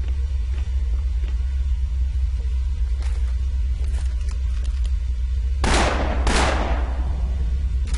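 Two loud gunshots in the Afterfall: Insanity video game, sharp bangs close together near the end, over a steady low ambient drone with faint clicks earlier.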